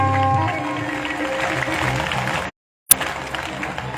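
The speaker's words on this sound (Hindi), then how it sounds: "तन उठा के ताली बजाइएगा बढ़िया रे" Audience at a Hindu katha recitation claps together in a steady, dense burst that fills the hall, then cuts off abruptly before a brief clap-like crack and more clapping resumes.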